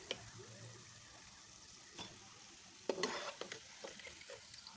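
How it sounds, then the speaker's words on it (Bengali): Rice-flour pithas dropped into hot oil and frying: a faint, steady sizzle close by, with a few sharper crackling bursts and scrapes as the cakes go in and are moved around. "তেলটা গরম হয়ে গেছে, আমি পিঠাগুলো দিয়ে দেবো।"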